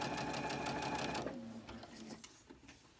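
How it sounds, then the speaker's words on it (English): A sewing machine chain stitches quilt pieces. Its fast, steady mechanical whir runs close and even for about a second, then slows and trails off into quieter clicks and handling noise. "And I'll go ahead and I'll chain stitch these."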